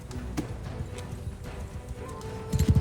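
Horses galloping in the medieval battle game Mount & Blade II Bannerlord, a steady run of hoofbeats at moderate distance that turns louder and closer in a final cluster of clopping.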